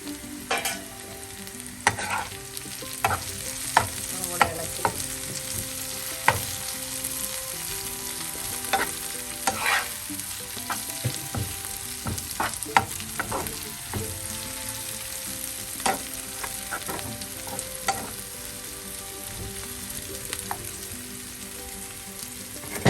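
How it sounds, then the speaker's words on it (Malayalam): Green bitter gourd stir-frying in a pan for mezhukkupuratti, giving a steady oily sizzle broken by frequent scraping and clinking stirs, close and unbroken throughout with no talking. "പാവയ്ക്കെല്ലാം ഒരുവിധ ഫ്രൈ ആയിട്ടുണ്ട്"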